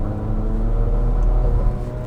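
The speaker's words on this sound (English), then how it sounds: "when you're in sport mode, it holds those higher revs" A 2020 Infiniti QX50 Essential Edition's turbocharged engine, in sport mode with AWD, holds high revs as a steady, close, even drone with a low rumble and no talking.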